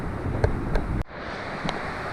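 Cascading mountain water running between Pine Creek Lake and Jewel Lake in Montana's Absaroka Beartooth Mountains, a steady broadband rush with wind buffeting the microphone, briefly cut off near the midpoint before resuming.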